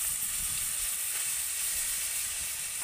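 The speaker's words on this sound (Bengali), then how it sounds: "তেলের মধ্যে আমি যে পটলের এক্সট্রা অংশটা বের করে রেখেছিলাম সেগুলোকে দিয়ে দেব" Pointed gourd trimmings frying in oil in a wok give a steady, close, dense sizzle and hiss that runs unbroken throughout, with no voices.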